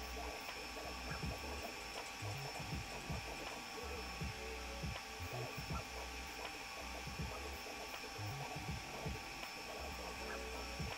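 Sovol SV06 Plus Ace 3D printer running nearby, a steady mechanical whir with rapid ratcheting, gear-like clicks and a constant fan hum, continuous and even with no talking.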